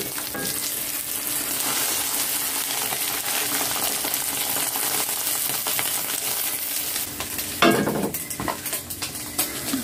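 Chayote omelette (tortang sayote) frying in a pan, a steady loud sizzle running throughout with faint scraping and a brief clatter near the end.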